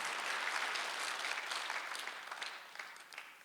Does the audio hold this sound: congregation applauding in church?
yes